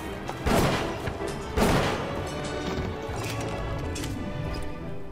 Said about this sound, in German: Ein Schuss, ein Treffer, würde ich sagen.